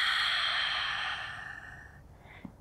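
A long, steady exhale during a beginner Pilates mat breathing exercise, close and clear, tapering off gradually, with a faint soft breath at the end.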